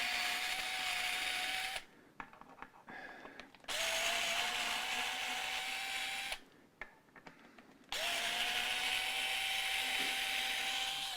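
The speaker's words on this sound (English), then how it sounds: "So to do this, I have to remove the neck bolt screws," Neck bolt screws on a left-handed vintage Thomas Blug Stratocaster guitar are backed out with a power driver in two long, steady whirring runs, separated by short bursts of clicking and handling, all close up and without talk.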